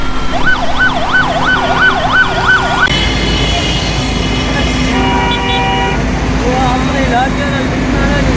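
A fire brigade vehicle's siren wails loudly and close at a tower fire in Karachi, first as a rapid rising-falling yelp, then shifting to a steadier tone amid dense street noise and traffic, with a voice talking over it.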